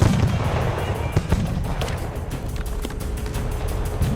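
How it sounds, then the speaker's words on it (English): Cannon and howitzer artillery fire at a siege, a dense, continuous rumbling barrage punctuated by repeated sharp reports, loud and sustained throughout. "General Washington fires one of the opening shots."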